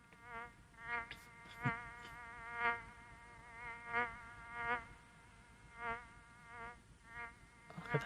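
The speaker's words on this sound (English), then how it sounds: "the buzzing of the fly or whatever" An anime soundtrack carries the buzzing of a fly, a faint, tonal drone that swells and fades in regular pulses roughly every second, sounding almost musical, with no talking.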